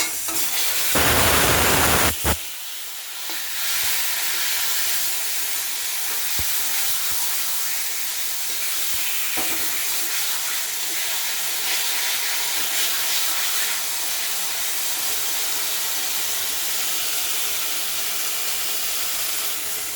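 Boiled taro greens and chickpeas tipped into hot oil tempered with chili, cumin and ginger, a loud burst of sizzling and spattering at the start that settles into a sustained hissing fry with occasional stirring clinks.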